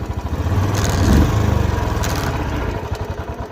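A Royal Enfield Bullet 350 motorcycle idles on its centre stand in dirt, its single-cylinder engine thumping in a quick, even pulse, close and steady throughout.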